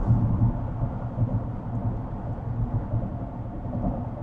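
Steady broadband rumble of rain and road noise inside a 2025 Polestar 3 Dual-Motor driving at about 70 mph, a continuous wash with no talking.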